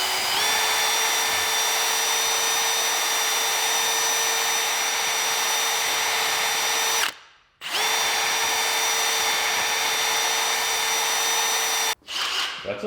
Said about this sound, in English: Just drill it.